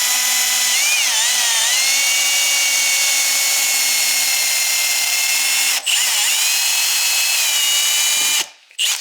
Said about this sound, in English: I do it with a smaller drill first. I think this is about a 4mm drill bit.